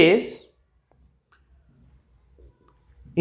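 A lecturer writes on a board during a Class 12 physics lecture on wave optics, producing faint, scattered scratchy strokes in a quiet pause, with speech just before and after.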